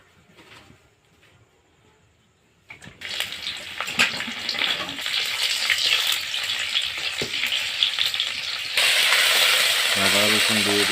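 Ginger-garlic paste hits hot palm oil in a wok while cooking chicken, bursting into a loud, steady sizzle after a quiet start, with stirring clatter and a brief tonal sound near the end.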